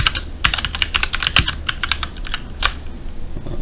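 A password is typed on a computer keyboard: crisp, irregular key clicks tap out close up in quick bursts, with brief pauses, in a quiet room.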